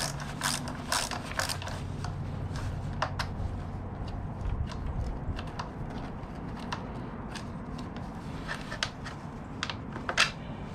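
Small tail light screws being worked loose with a hex tool on a Can-Am Ryker 900 ACE, giving quiet, scattered ratcheting clicks and metallic ticks spread through the stretch, close but faint, with no one speaking.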